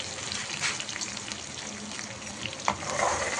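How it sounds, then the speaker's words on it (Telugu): Ground masala spices and curry leaves frying in hot oil for a masala gravy, giving a dense, continuous close sizzle with a few clicks of stirring, no speech. "తర్వాత మనం మిక్సీ చేసుకునే మసాలాస్ కూడా వేసేసుకొని ఫ్రై చేసుకోవాలండి"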